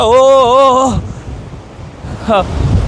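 Wind and surf roar steadily across the clip on the windy coast of Wellington, New Zealand, with a voice heard briefly at the start and again near the end.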